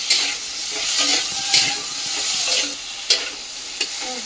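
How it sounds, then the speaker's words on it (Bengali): Curry fries in a pan with a continuous hiss, while a spoon scrapes and stirs through it in a few sharp, spaced strokes, close and fairly loud, no one speaking. "ভালো করে আমি কষিয়ে নিয়েছি তরকারিটা"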